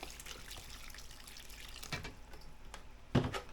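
Warm water is squeezed out by hand into a mass of coconut coir, giving soft wet trickles and splashes close by, building to a louder gush near the end, with no talk.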